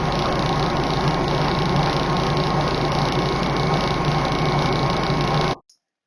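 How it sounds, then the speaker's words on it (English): Underwater noise from shipping and boats forms a dense, continuous broadband rumble and hum with a steady mechanical texture, loud throughout before stopping abruptly. "sounds from shipping and boats"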